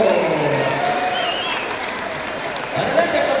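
Spectators at a men's basketball final in Tlahuitoltepec clap in a steady, crowd-wide round of applause that carries on beneath a commentator talking over it.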